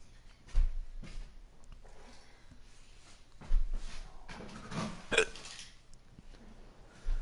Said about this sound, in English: I'm having really weird belches. I sound like a bullfrog.